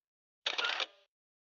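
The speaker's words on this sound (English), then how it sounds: "This one, flash, is going to be a photography sound." A camera shutter sound effect for a flash transition in a video editor: one crisp, bright mechanical click-snap with a brief ringing tail, isolated in silence.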